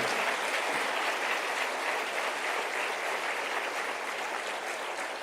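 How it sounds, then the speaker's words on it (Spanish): A church congregation at a sermon gives steady, dense applause that fills the hall at an even level for several seconds, with no speech over it. "Dele un aplauso al Señor."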